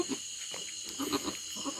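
A goat bleats a few times, fairly faint against a steady background hiss, the short wavering calls spaced through the clip.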